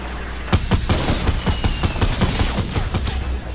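Rapid automatic gunfire from the player's weapon in a battle royale video game, a loud close burst of evenly spaced shots firing continuously for several seconds.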